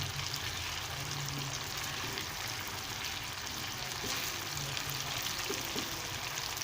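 Fish frying in a pan of tomato paste chutney, a steady soft sizzle and crackle running continuously, close and alone with no talk.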